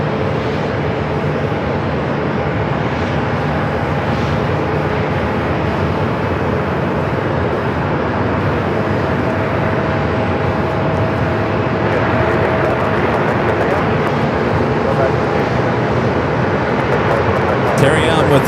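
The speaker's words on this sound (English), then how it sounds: "A320neo heading to Salt Lake City, flight 2526, Ward the Beaver livery." An Airbus A320neo in a Ward the Beaver livery, flight 2526 to Salt Lake City, moves at Phoenix Sky Harbor with a steady, moderately loud engine drone under continuous talk.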